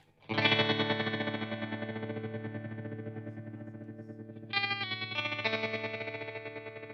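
An electric guitar chord through a TC Electronic Pipeline Tremolo pedal at very fast speed rings out with rapid pulsing, then a second chord is struck and keeps fluttering quickly.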